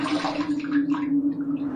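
Running water rinsing a razor at a bathroom sink after a shaving pass, a brief steady splashing flow heard close and fairly clear.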